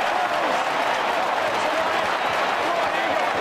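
A big stadium crowd at the SCG rises and roars with sustained cheering and applause for a goal in an Australian football match. The broad, loud wash of noise holds steady, with a commentator talking over it.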